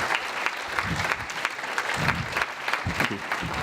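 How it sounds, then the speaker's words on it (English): Applause from a convention audience at a hypnotism stage show fills the room, a steady patter of many hands clapping, moderately loud and continuous throughout. "And a round of applause."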